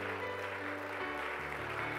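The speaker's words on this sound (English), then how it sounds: "Let's give the Lord a clap offering." A church congregation claps steadily through a Wednesday evening service, a dense wash of hand claps blended with sustained musical tones from the worship band.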